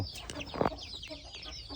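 Several chickens, hens with a rooster and young birds, cluck and squawk in a farmyard scuffle, with bursts of agitated calls and one louder flurry near the middle, fairly close.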